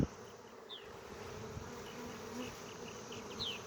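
A honey bee swarm of about five pounds drones steadily as it is being laid over an empty hive, a continuous close buzz with individual bees whining past now and then.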